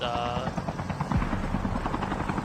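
A helicopter in a battle royale video game flies nearby with a steady rhythmic rotor chop, loud and continuous, while a commentator talks over it.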